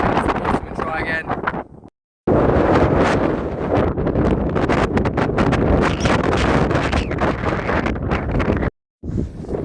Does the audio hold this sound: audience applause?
no